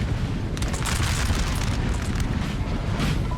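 An artillery shot booms on a Napoleon: Total War battlefield, with a rumbling blast spread through continuous noisy combat ambience.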